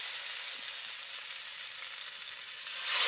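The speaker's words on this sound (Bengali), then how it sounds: "এবার আমি জল দিয়ে দেবো।" Water hitting a hot cooking pan and sizzling steadily, a dense continuous hiss that holds even and then swells louder toward the end.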